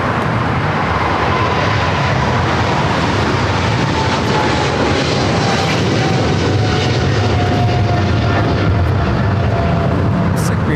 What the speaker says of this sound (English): China Southern Cargo 777 freighter rolling down at 25 left.